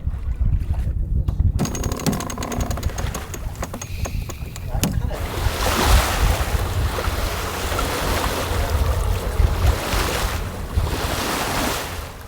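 A sailboat under way at sea, with steady wind rushing over the microphone and waves washing against the hull, loud and continuous throughout, with a few faint clicks and rattles early on.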